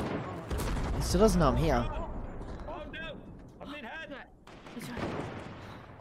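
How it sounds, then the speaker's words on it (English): In Fortnite, scattered gunshots pop at a helicopter, sounding somewhat distant. A player talks over the shots throughout. "They're shooting the heli now."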